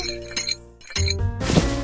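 Dice rattle and clink inside a shaker in an online Hi-Lo dice game, a few quick hard clatters followed by a louder burst of shaking.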